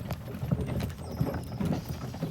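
Draft horses' hooves clip-clop steadily as the mares pull a ride uphill, a close, rhythmic series of hoof strikes with a faint whinny-like tone in the background.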